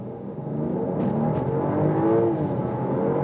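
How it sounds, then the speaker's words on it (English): A BMW X7 40i's 3-litre inline six-cylinder engine pulls hard under acceleration, a smooth rising drone that swells in pitch and loudness over a few seconds, heard from inside the cabin with no talking. "That's great sound here from the inline 6-cylinder."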